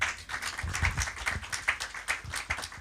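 An audience at a book launch claps briefly, a quick burst of uneven hand claps from a modest crowd, close and fairly loud, with no voices over it.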